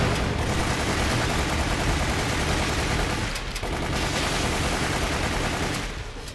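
Dense, continuous gunfire from the video game Resident Evil The Umbrella Chronicles, loud rapid-fire shots packed together with barely any gaps, sustained for several seconds.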